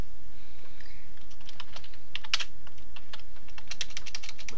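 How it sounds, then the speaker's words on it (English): Rapid clicking keystrokes on a computer keyboard, close and crisp, an irregular run of taps with a few louder strikes, heard alone without talk. "Wait, why am I typing?"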